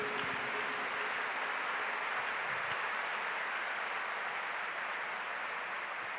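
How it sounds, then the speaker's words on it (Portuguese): Church congregation clapping for the Lord during a Catholic priest's Pentecost talk, a dense, steady wash of applause sustained at even loudness throughout, with no voices over it. "Aplauso ao Senhor por tudo isso que eles viveram."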